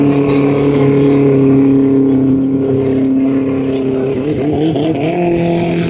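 Powerful speedboat racing engines at a Thai boat race drone steadily nearby while warming up, then several revs swell and warble before settling back into a loud, sustained roar.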